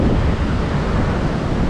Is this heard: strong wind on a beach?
yes